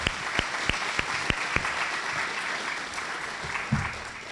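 An awards-evening audience applauds a violinist and pianist, a few sharp separate claps at first that blend into a moderate, steady round of clapping in a hall.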